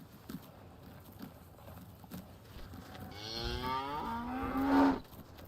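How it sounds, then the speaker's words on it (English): Cattle in Farming Simulator 19 moo in a barn fitted with working fans and Lely milking machines, one long, loud, rising moo building near the end over a soft background of hoof clops. "Shut up, cows. Bloody noisy bastards."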